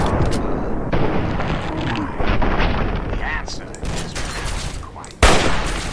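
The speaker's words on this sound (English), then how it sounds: "I take aim and shoot these guys." Fallout 3 firefight: dense bursts of gunfire with sharp, close reports over busy combat noise, ending in a louder blast near the end.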